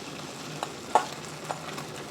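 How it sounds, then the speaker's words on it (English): Rice noodles sit frying in avocado oil in a non-stick pan, a soft, quiet sizzle broken by a few light taps and clicks, with no talking. "We're gonna let it fry for about a minute on one side, and then we'll flip it over and spread it out a little bit."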